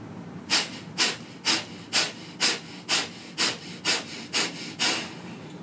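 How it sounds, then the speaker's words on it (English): Forceful rhythmic breathing during pranayama yoga, about a dozen sharp nasal exhales pumped out at an even pace of roughly two per second, close and loud with no talk. "Take an inhale."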